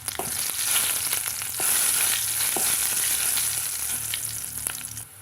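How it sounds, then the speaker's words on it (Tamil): Small onions sautéing in hot oil in a pan, a steady close sizzle and crackle with occasional stirring scrapes, alone with no voices. "கொஞ்சமாக சேர்த்திட்டு அது கொஞ்சம் பொன்னிறமாக வதங்கி வரட்டுங்க"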